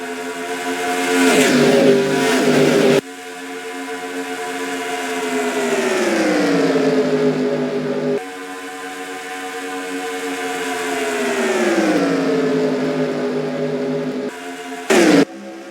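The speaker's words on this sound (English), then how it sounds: "Listen to the roar of those engines." NASCAR race cars roaring around the track, engines rising and falling in long sweeping passes as cars approach and pull away, loud and continuous with a sharp cut near the end.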